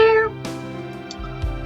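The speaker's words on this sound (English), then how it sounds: "that was my cat." A house cat gives one short meow at the start, followed by faint indoor rustling and light bumps.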